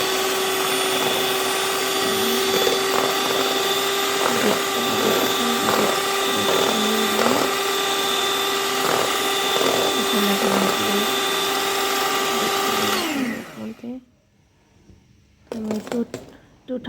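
An electric beater whirs steadily while whisking five eggs, its motor droning at a constant pitch with rhythmic changes in tone as the beaters move through the bowl, then cutting off abruptly and leaving a few faint clatters.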